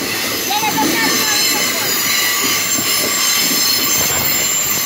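An MRS Logística freight train passes close by, its wheels rumbling and squealing loudly and steadily on the rails, with scattered voices in the background.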